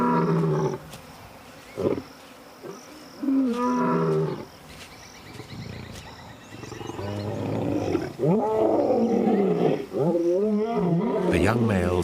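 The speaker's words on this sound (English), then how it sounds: "Their roars to find each other carry far and wide." Young male lions roar back and forth in unfamiliar territory, long, deep calls repeating loud and near across the wild, under a narrator's voice.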